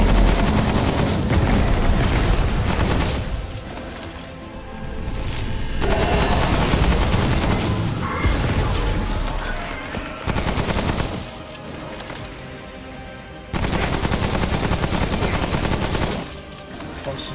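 Sustained automatic gunfire in the Remnant: From the Ashes video game, loud and near, in long dense bursts broken by short lulls, with booming impacts mixed in and no talk.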